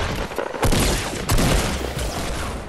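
Rocket launcher fire in the video game Fortnite, two loud booming blasts close together, each followed by a rumbling roar, with no talk over them.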